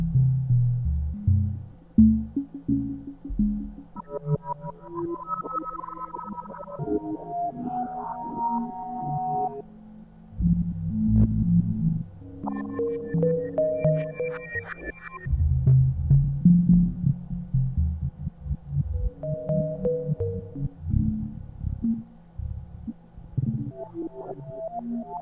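Mangled synth tones from GS-DSP plugins running on a phone, with warbling, throbbing bursts and pitched bleeps in shifting irregular phrases, fairly loud and alone.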